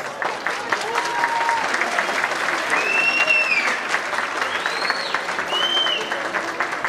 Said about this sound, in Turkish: Alkış bu kadar kalabalıktan çok az.